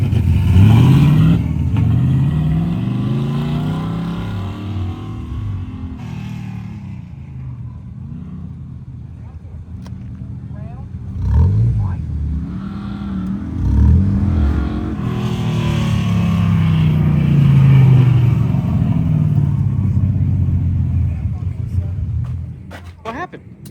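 Race car on an autocross course, its engine revving and dropping in pitch as it weaves through a slalom, a sustained drone with rising and falling sweeps, people talking over it.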